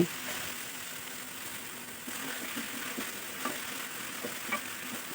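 Duck meat fries and cooks down in a pan, giving a faint, steady sizzle with soft stirring scrapes and occasional clinks, close by and with no talking.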